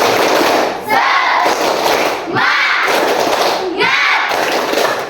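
A group of schoolchildren doing the Indonesian "tepuk semangat" rhythmic clapping cheer, loud close bursts of patterned claps in three waves with brief pauses between, voices chanting along.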